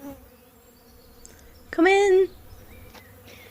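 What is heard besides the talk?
bees humming, audiobook sound effect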